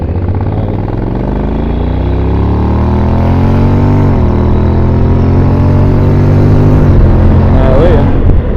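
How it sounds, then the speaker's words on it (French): A 155 cc motorcycle revs up close and loud, its engine note climbing steadily, briefly dipping, then rising again before easing off near the end. "Fais-moi voir un peu ce qu'elle envoie ta moto."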